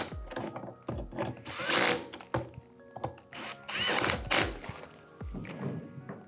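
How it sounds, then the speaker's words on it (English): A power drill tightens bolts on an office chair under assembly, with repeated short whirring bursts and knocking thunks of parts shifting, close up and fairly loud. "take our drill, tighten the bolts down."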